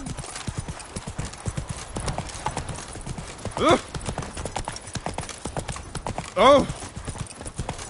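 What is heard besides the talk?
horse galloping, clip-clop hooves, from video game The Witcher 3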